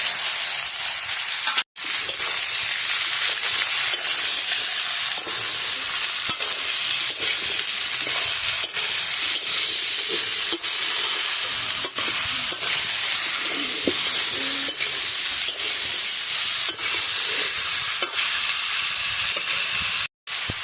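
Boiled jackfruit and potatoes fry in a pan with onion and crushed garlic, giving a steady, loud sizzle with scraping stirs throughout and no one speaking.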